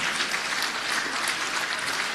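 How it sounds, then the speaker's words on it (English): A crowd at a football awards night applauds a rising young player: a dense, even wash of clapping, fairly loud and continuous, with no voices over it. "round of applause for the rising star in 2017, Hugh Blanchfield"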